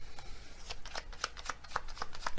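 Tarot cards being shuffled close by, a quick run of soft riffling flicks and slaps over a couple of seconds at low volume, with no talk.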